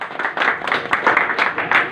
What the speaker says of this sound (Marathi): कृपया सर्वांनी टाळ्या वाजवायच्या.